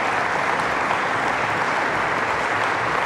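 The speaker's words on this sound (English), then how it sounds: "Can we give them a big round of applause," An audience at the DjangoCon Europe 2023 closing session applauds its sponsors, a dense, steady wash of many hands clapping that holds at an even level for the full three seconds.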